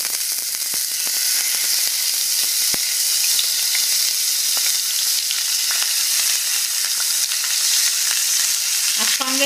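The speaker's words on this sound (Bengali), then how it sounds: "আমি এটা সরিষার তেলে ভাজবো মাছটা" Taki fish frying in mustard oil gives a loud, steady, close sizzle that runs without a break, with faint clinks of stirring and no voices.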